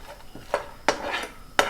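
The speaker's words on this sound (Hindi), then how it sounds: "मैं उसको कॉन्स्टेंटली हिला रही हूँ।" A spoon stirs a post-delivery low-fat mix roasting in ghee in a pan, giving a few distinct scraping strokes over a faint background hiss, with no talking.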